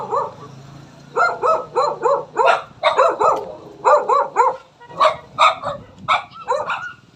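A family's dog roaming outdoors near a seawall barks repeatedly in quick, sharp yips and bow-wows, a steady run of a dozen or more barks at moderate distance, with a faint low hum beneath.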